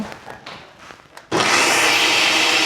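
A mixer grinder blending coriander into green chutney starts abruptly partway through and runs at a loud, steady whir, preceded by quieter handling noises.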